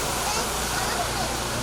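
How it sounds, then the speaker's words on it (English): Running water from a feature inside an artificial cave at a bird sanctuary makes a steady close rushing splash, constant and unbroken, with a faint low hum beneath. "The water feature inside the cave"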